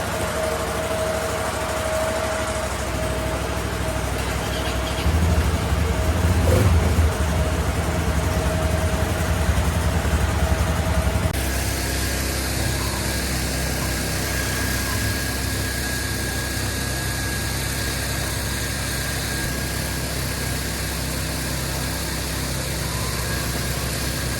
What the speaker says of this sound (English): can't believe the blower and quad actually fired up after sitting all winter